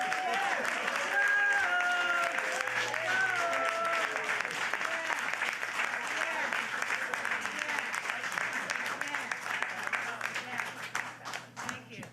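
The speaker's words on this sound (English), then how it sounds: "Can't argue with that applause." Audience applause at a Deputy Prime Minister's announcement event in Toronto: a sustained, dense wash of many hands clapping, steady and full, with someone speaking over it early on, tapering slightly at the end.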